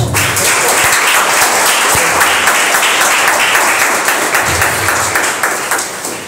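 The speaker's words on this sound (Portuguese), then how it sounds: "Receba o servo de Deus com as palmas bem fortes." Loud applause fills a church service, a dense wash of clapping that holds steady for several seconds and then begins to fade.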